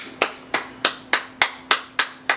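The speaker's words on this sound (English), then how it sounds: "can I give Ty Lue just a round of applause" A single person claps slowly and deliberately in honor of basketball coach Ty Lue, eight sharp, evenly spaced hand claps close to the microphone with no other voices.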